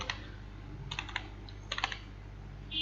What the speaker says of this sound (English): So I will just type mkdir, and then you can give name to the folder.